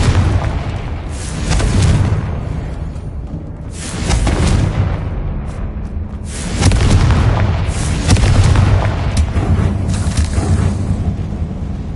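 Repeated deep booming explosions from the Confringo spell in the Hogwarts Legacy video game, several loud heavy blasts rolling one after another, filling the space with rumbling low-end impacts.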